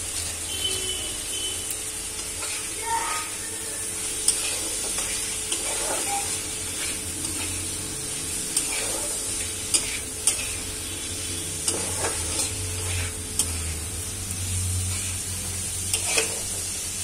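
Spices and Kashmiri chili powder stirred in a hot frying pan, with a steady sizzle beneath repeated scraping strokes of a spoon against the pan.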